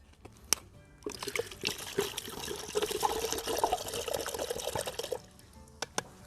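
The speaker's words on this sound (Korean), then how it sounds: "우선은 요 막걸리를 다 부어주세요." Makgeolli rice wine is poured into a cut-open container for a garden bug trap, a few seconds of splashing, trickling liquid framed by light knocks before and after.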